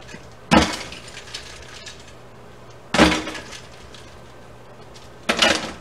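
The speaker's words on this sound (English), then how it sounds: "I'm going to go ahead and get these ice cubes out of here." Ice cubes clatter and clink as they are scooped out of a pot of cucumbers during pickle canning, three separate sharp bursts spaced a couple of seconds apart, close and fairly loud.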